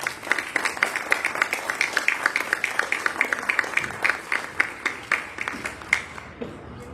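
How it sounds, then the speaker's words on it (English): Applause at a school board meeting for an award recipient, a steady, close round of many hands clapping that holds evenly for several seconds before fading out, with some voices in the room. "Big round of applause for Sergio Tamez"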